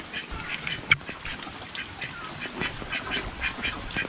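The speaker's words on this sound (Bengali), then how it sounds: "হাঁসের দল দেখো" A flock of ducks in Sahebkhali village in the rain, quacking in scattered, repeated calls at moderate distance, with one sharper quack standing out over a soft wet background.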